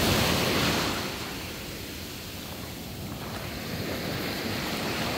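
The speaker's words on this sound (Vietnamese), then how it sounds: "sóng biển ở đây được cái là rất là êm đềm và rất là sạch luôn" Gentle sea waves wash onto the beach at Sandunes Beach Resort in Mui Ne, Phan Thiet, a steady rushing surf that swells slightly at the start and again toward the end, with no talking.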